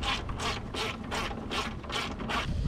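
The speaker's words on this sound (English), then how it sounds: "with your 10mm, go ahead and take this bolt out" Ratchet wrench with a 10mm socket backing a bolt out during hood damper installation on a Mitsubishi Lancer EVO X, giving a steady run of close, rapid clicking strokes with no talking.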